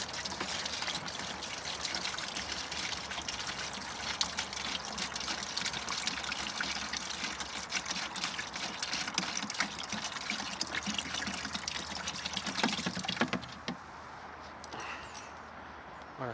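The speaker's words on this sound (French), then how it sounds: "On remplit le deuxième arrosoir." Steady stream of water pouring into a watering can while it is refilled, a continuous gushing trickle lasting about thirteen seconds before it stops and leaves faint background.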